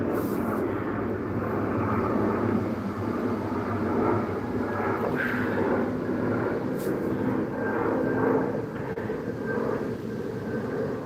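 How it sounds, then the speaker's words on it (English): A plane passes overhead as a steady, broad engine rumble that holds at a constant level throughout, moderately loud and far off, with no talking. "there's a plane overhead."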